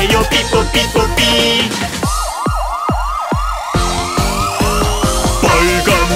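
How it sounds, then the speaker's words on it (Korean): A wailing ambulance siren in a children's song sounds over bouncy music, rising and falling in repeated loud sweeps up close, with the backing track playing throughout. "하얀 자동차가 삐뽀삐뽀 내가 먼저 가야 해요 삐뽀삐뽀 아픈 사람 탔으니까"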